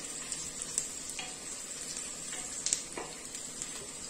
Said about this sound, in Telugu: ఇప్పుడు ఆనియన్ వేగిందేమో చూస్తాను